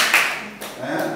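A single hand clap rings out sharply in a classroom lesson on listening, a brief near transient followed by the low murmur of a room.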